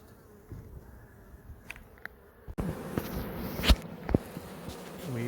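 Honey bees buzz steadily during removal of a beehive from a tree cavity, a low hum with a few louder bursts and knocks near the end.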